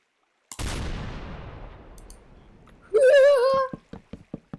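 A single loud blast in a Minecraft battle over a settlement rings out and trails off in a long fading rumble, then a short warbling cry follows, with a few sharp clicks at the end.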